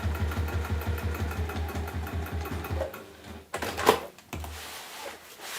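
Sewing machine stitching down the end of a waxed canvas tote bag handle, a steady rapid stitch rhythm for about three seconds, then stopping with a few handling clunks and rustles of the fabric.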